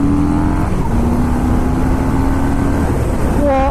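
A 2019 Harley-Davidson Fat Bob 114 motorcycle accelerates hard on an open road beside white cliffs, its engine roaring loud and steady, then climbing sharply in pitch through a gear change near the end.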